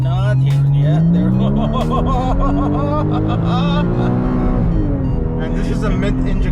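A friend's 2015 Porsche Cayman GTS, a mid-engine car, drives hard with a loud engine tone rising and falling steadily throughout, while people talk over it.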